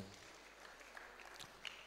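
A lecture-hall audience at a university valedictory programme applauds softly, a steady faint patter of many hands clapping at a distance with no voices over it.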